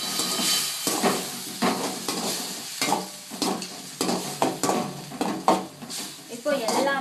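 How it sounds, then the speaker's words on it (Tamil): Tomatoes sautéing with turmeric and salt in a pan for tomato rice, a steady close sizzle broken by repeated scraping and stirring of a spoon against the pan, with no talk. "இப்போ எல்லாமே சேர்ந்து நல்லா வதங்கணும்."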